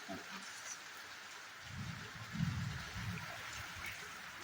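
Light evening rain falls steadily outdoors, a soft, even hiss of drops with a faint low rumble swelling briefly in the middle.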